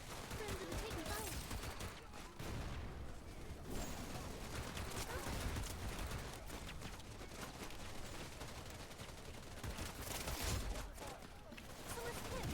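Gunfire in the video game Wild Assault comes as dense, continuous crackling and booming, loud and chaotic throughout, with a few heavier bursts and voices faintly mixed underneath.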